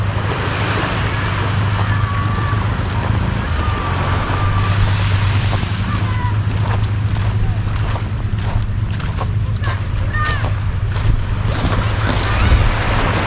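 Calm sea with gentle waves lapping around a boat, a steady wash of water under constant wind rumble, with soft splashes and brief knocks close to the microphone.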